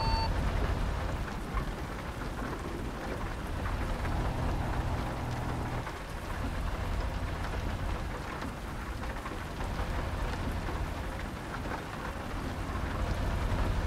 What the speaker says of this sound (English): You got the lightning, Oddball? Not yet. I've only just got rain